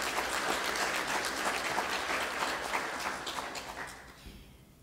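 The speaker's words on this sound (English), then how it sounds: "Can we give him a round of applause?" A graduation ceremony crowd applauds steadily, dense clapping filling the room, then tapering off and fading near the end.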